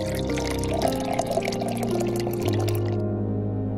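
Water poured from a vessel into a drinking cup indoors, a steady close pour lasting several seconds with small splashy bursts and a rising fill tone, with no one speaking.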